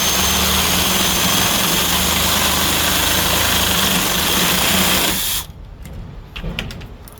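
A loud, continuous power drill whines steadily for about five seconds while boring a 3/4-inch hole in the metal roof of a 2019 Honda Pilot, then cuts off, leaving faint rattles and clinks of metal.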